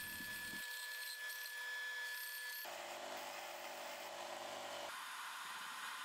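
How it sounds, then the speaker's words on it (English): A power drill bores holes for washers and a cap nut in beech wood pressure pads for holdfast clamps. It runs as a loud, steady whine that shifts pitch in distinct stages as it cuts, with no talking. "First, I drill holes for the washers and the cap nut"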